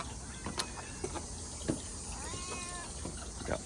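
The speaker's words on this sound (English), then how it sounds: "Got Leo the cat in here" Leo the cat meows several times from out on a backyard porch, short rising and falling calls spaced a second or so apart, moderately near over a steady outdoor hum.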